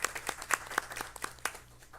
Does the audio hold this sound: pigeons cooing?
no